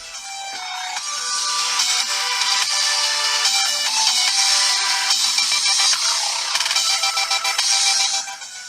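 A song plays loudly from an Alcatel A30 phone loudspeaker held close, bright and tinny, continuous for several seconds before cutting off.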